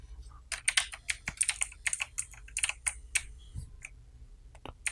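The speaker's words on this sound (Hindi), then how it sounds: "अब आपने यहाँ टाइप करना है माइक्रोसॉफ्ट" Fingers type on a computer keyboard, quick irregular bursts of crisp key clicks with brief pauses, close and moderately quiet, no voices.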